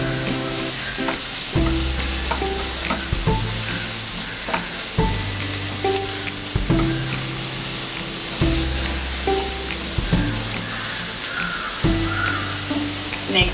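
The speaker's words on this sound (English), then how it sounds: "Now I'm going to cook the vegetables on medium flame for about 3 to 4 minutes" Mixed vegetables for an oats khichadi sizzle loudly over a medium flame, a continuous close fry broken by repeated stirring scrapes, with a bird cawing faintly in the background.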